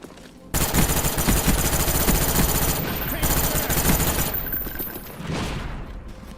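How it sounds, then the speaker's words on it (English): A FAMAS assault rifle fires in Call of Duty: Black Ops, rapid bursts of loud, punchy gunfire that carry on almost without a break after a quiet opening, with a voice talking over the shots. "The FAMAS, by far the best gun in the original Black Ops, has one of the best firing sounds in Call of Duty history"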